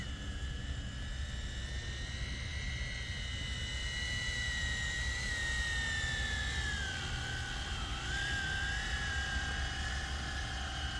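A small RC model helicopter, a Hill HX50 replica, whines steadily overhead, its high motor pitch sliding down and back up over a constant droning hum.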